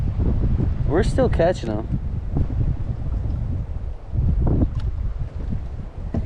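Strong wind on a lake during spring bass fishing buffets the microphone in a steady low roar, while someone talks briefly over it.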